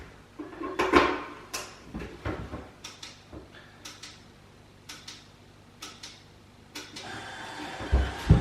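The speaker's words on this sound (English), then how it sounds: "And the results start coming out of the printer immediately." A radon tester's printer prints out test results, a series of close, regular mechanical ticks and clacks repeating about once a second, with a louder rustle and thump near the end as paper feeds.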